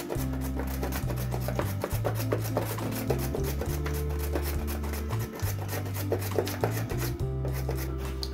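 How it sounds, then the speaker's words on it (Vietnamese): Carrots are grated for Vietnamese spring rolls, a close, steady run of repeated rasping strokes with a regular back-and-forth rhythm and no talking. "Bây giờ chúng ta sẽ bào cà rốt nha các bạn."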